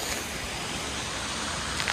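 Waterfall near Lake Tahoe, a steady broad rush of falling water heard alone and fairly loud for the whole stretch.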